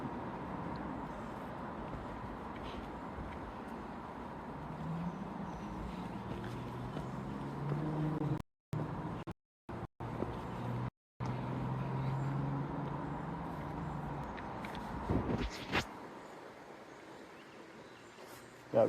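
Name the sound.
highway traffic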